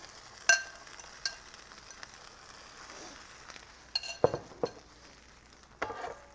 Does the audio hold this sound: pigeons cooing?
no